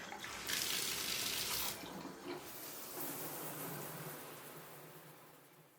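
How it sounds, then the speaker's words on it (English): Shower water runs steadily in a home bathroom, a broad close hiss that is loudest early on and then eases to a softer, even spray, with no talking. "I'm gonna go hop in the shower"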